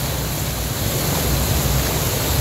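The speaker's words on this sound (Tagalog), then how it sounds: "Lakas ng tubig. Bahang-baha." Floodwater rushes steadily down a flooded street in Sanja Mayor, Tanza, Cavite, making a continuous loud, close roar with no pauses.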